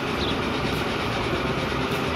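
Steady rolling train in the Transport Fever 2 simulation, a wood-hauling freight run on a USA map, with continuous broadband rumble and rail noise at an even level throughout, no voices.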